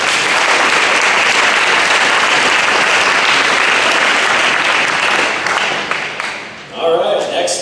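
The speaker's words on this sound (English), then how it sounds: "So let's give these guys a round of applause." Sustained applause from a crowd at a 2022 high school football banquet, loud and steady for about six seconds before thinning out and briefly swelling again near the end.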